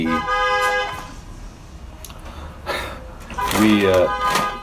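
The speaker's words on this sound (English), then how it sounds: "People honking across the street because they want to pick somebody up." Car horns honking across a street, several short toots and a longer blast, fairly distant, with traffic noise between them.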